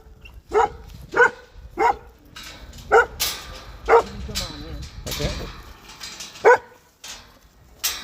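Big Maremma guard dogs bark in sharp, loud single woofs spaced about a second apart on a ranch, close by, with people talking quietly underneath.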